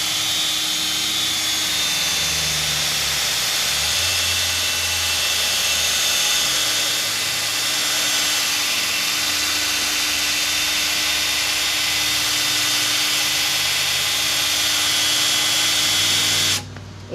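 A polishing machine works compound over a foggy car headlight, giving a steady, loud, continuous motor whine with a faint high tone, cutting off abruptly at the very end; no talking.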